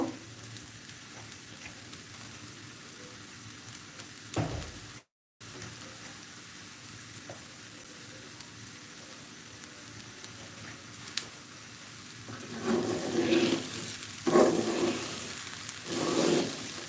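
Pulao ingredients frying in a pan give a steady low sizzle that swells louder near the end, with occasional stirring scrapes and one short dropout in the middle.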